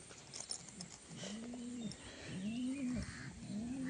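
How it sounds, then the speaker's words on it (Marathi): Domestic pigeons coo near the microphone in a series of low, rolling calls repeated at a steady pace, over faint background noise. "तुम्हाला कबूतर दाखवतो माझी"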